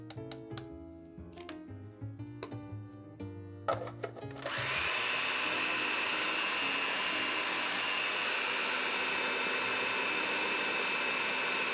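A food processor whirs steadily while butter streams through the feed tube into an almond, vanilla and white bean blondie batter. Its loud, constant motor drone starts abruptly after a few seconds of quieter kitchen sounds and holds to the end.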